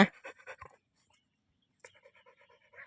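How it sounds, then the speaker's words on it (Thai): Quick, rhythmic panting from someone tired and out of breath comes in two short bursts separated by a silent pause, close and fairly loud. "หอบไปกินน้ำปะไปกินน้ำปะลูกปะ เหนื่อย"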